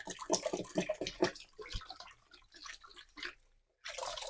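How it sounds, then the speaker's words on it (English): A Pinter beer-keg valve swilled and pumped up and down in a basin of water, giving sloshing, splashing bursts in an uneven rhythm, close and moderately loud, with a short pause before a final splash. "just swilling it in the water like this and pumping it up and down"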